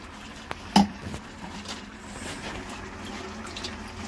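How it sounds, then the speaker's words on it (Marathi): Liquid from ground crab legs strained through a sieve, a soft steady trickle with a sharp clink of utensil near the start, close and fairly quiet. "हे आता गाळणीने गाळायचं."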